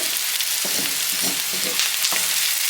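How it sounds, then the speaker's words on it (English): Ginger and garlic fry in a pan for prawn biryani, giving a steady loud sizzle with a few stirring scrapes partway through, close up and with no talk. "now I want to mix the ginger and garlic."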